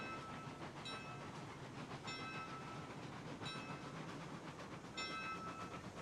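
A train rolling along in the railroad game Railroads Online, a steady rumbling wash with faint metallic squeals and periodic clicks, continuous and moderately loud with no talk.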